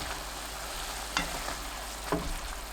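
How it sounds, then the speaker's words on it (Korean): Dried taro stems being tossed and stirred in a covered pan over medium heat, a soft steady sizzle broken by two distinct scraping stirs, no one speaking. "2분 후 골고루 섞어줍니다"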